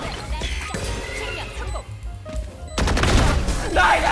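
Rapid gunfire bursts in a tactical video game shootout, starting loud and dense near the end after a quieter stretch of clatter, with teammates talking over the shots.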